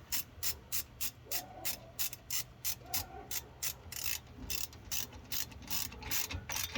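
A hand ratchet clicks in rapid, even bursts while tightening the brake caliper bolts on a 2004 Dodge Ram 1500 during a front brake service, close and clear with brief pauses between strokes.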